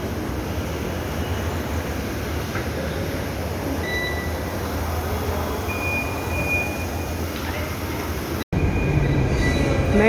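A metro train runs in a steady, loud rumble with faint high squeals from the wheels, heard from inside the carriage, with a brief dropout near the end and no talk.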